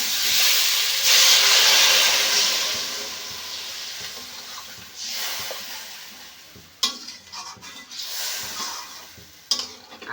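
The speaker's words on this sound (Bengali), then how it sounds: "এখন আমি জল দিয়ে দেব।" Water poured into a hot pan of fried fish and taro curry sets off a loud, bursting sizzle and steamy hiss that slowly dies down, followed by a few sharp stirring clatters and renewed sizzling.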